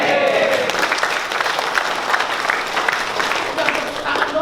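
Crowd applause at a Banten labour union (FSPMI) consolidation rally, a steady dense clapping wash that carries evenly through the whole stretch with voices mixed in.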